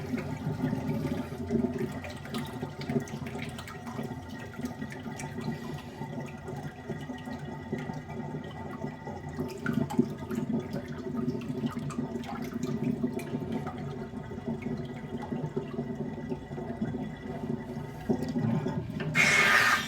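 Continuous water running and gurgling down a sink drain for a long stretch, steady and fairly close, with no talking.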